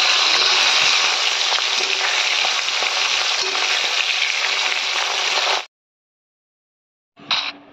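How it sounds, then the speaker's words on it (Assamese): Small fish fry in hot oil, a loud, close, continuous sizzle that cuts off abruptly into silence, followed by a brief final burst of frying. "তাৰপিছত মই মাছকেইটা ভাজি ল'লোঁ"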